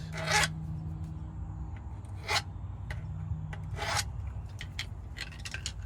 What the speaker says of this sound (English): just file them down a little bit. I'll do this too. Make sure that there ain't no burrs.